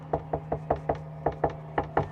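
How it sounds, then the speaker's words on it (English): Knocking on a door: eleven crisp, evenly spaced raps in an unhurried, steady rhythm, close and clear over a faint steady hum, with no voices. "Imagine a stranger knocks on your door."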